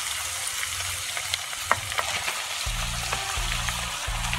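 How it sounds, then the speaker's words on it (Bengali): Boiled basmati rice is stirred in a pan with fried vegetables, giving a close, steady sizzle with scraping stirs and a few dull knocks from the spoon. "খুব ভালোভাবে মিশিয়ে নিচ্ছি রাইসের সাথে সবজিগুলো।"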